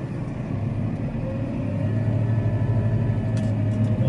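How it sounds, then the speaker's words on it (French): A tractor in four-wheel drive works a wet field while destroying a cover crop; its engine makes a steady, continuous rumble that grows slightly louder over the clip. "Allez, Gaël, on met les 4 roues, ça ira mieux."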